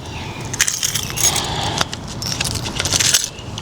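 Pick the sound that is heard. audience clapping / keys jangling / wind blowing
keys jangling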